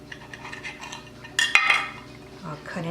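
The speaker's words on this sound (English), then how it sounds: "Now I'll put some of the gravy over it." Gravy made with lemon juice and brown sugar spooned over a pineapple-topped ham, with a spoon clinking against a dish and soft scraping and stirring, a sharper metallic clink in the middle.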